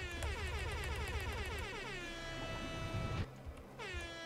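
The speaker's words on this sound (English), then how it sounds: "you can air horn in the mutation screen" Air horn blasts in the Nuclear Throne mutation screen sound as a loud, buzzy horn held about two seconds, then a short pause and a second brief blast, with light game sounds underneath.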